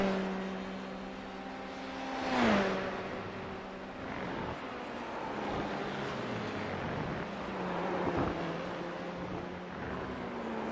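Formula 3 race car engine in a racing video game at the Red Bull Ring, a steady droning whine with a rising and falling pitch sweep as a car passes, continuous throughout without talk.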